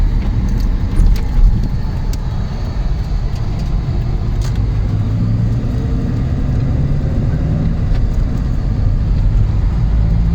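An old car with a manual gearbox idling and running during a beginner's driving lesson, a loud, steady low engine rumble inside the cabin with a few faint clicks and rattles, no talk.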